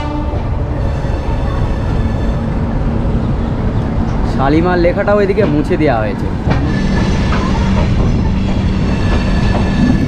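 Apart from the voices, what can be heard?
Dhauli Express passenger train departing and running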